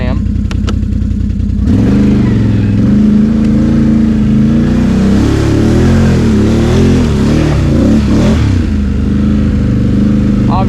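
Can-Am ATV climbing a hill in two-wheel drive with the differential unlocked, the engine loud and close, revving and rising and falling in pitch as it works up the slope.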